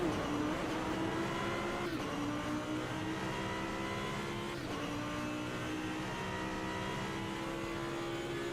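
A drift car in a racing video game revs hard with a steady, high engine whine. Pitch rises and dips slightly as the car accelerates and shifts, sustained and fairly quiet throughout, no voices.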